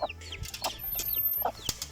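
Young chicks clucking and peeping while pecking at wheat, several short calls close by with soft scratchy feeding noises between them.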